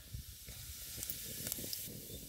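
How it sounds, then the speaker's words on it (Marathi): Cumin seeds sizzle in hot oil in a pan over a wood-fired chulha, giving a steady, fairly quiet frying hiss with small crackling pops scattered through it. "पातेल आपलं गरम झाले जरा तेल ओतून घेतो आता एक चमचे जिरं टाकून घेतो"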